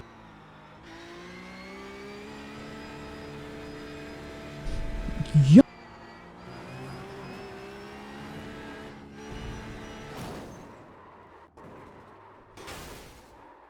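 A car engine in the iRacing sim racing game drones steadily and close, its pitch climbing and dropping through gear changes with a sharp burst near the middle, and one brief spoken word.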